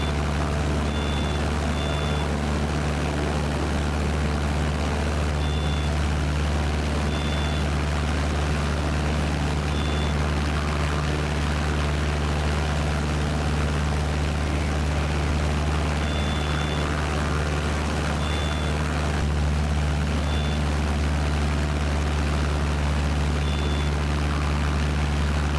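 An airplane in Microsoft Flight Simulator runs with a steady, loud engine drone and constant low hum, while short periodic beeps repeat faintly above it.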